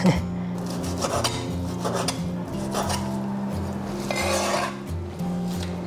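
A knife slices beef foreleg thinly across the grain, giving soft, repeated rasping strokes with light scrapes against the board, close by and fairly quiet, with no talking.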